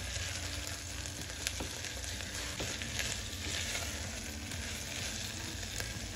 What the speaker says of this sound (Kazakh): Жуылған жасымықты салып, тағы да 1-2 минут араластыра отыра қуырамыз.